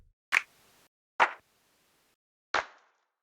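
Three crisp, dry clap samples in a chill lofi piano beat, each a sharp isolated hit with a short tail and near silence between them, spaced unevenly.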